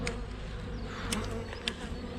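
Honeybees swarm and buzz around a hive frame during the first spring inspection, a steady close drone with no talking.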